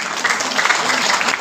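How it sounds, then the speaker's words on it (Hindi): A seminar audience at an Ayurveda product training session claps loudly and steadily, a dense burst of applause filling the room. "जोरदार ताली बजाइए।"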